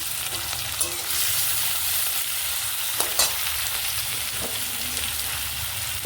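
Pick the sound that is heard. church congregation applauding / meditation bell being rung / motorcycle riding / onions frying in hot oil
onions frying in hot oil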